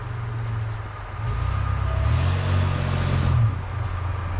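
A first-generation Toyota Tacoma pickup in four-wheel drive with the locker engaged climbing a hill, engine droning low and rising as it pulls, heard from nearby.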